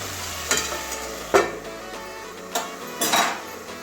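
Lid lifted off a cooking pot of simmering Malabar spinach with stems and lentil dumplings, giving a few short metallic clanks and scrapes among soft kitchen clatter, close and fairly clear with no talk.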